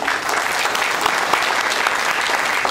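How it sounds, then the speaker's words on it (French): Dense, steady applause from a crowd at a garden inauguration at MUPANAH, continuous clapping that holds at an even level throughout with no voices standing out. "Un applaudissement pour Philippe."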